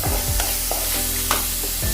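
Chopped onions frying in a pan toward golden brown, a constant close sizzle with several distinct scraping stirs of a spoon against the pan.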